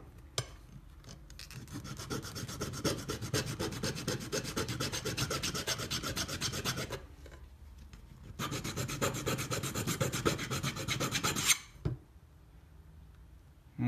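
Hand sanding scratch marks off a wooden model case, two long bursts of steady, close rasping strokes separated by a short pause, ending with a quiet tail.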